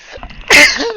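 A single loud, close human sneeze bursts out sharply after a brief short exclamation from the same voice.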